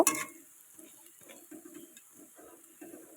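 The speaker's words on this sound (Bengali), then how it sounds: "দেখো কত সুন্দর ভাজা হচ্ছে" Green cauliflower fritters fry in oil, giving a faint, intermittent crackle and soft stirring scrapes that come in short bursts with no talking.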